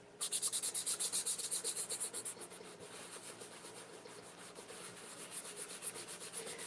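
Wax being buffed by hand onto a vintage Christmas ornament, a close, soft rhythmic rubbing that is quick and regular at first, then settles into a steadier, quieter smoothing.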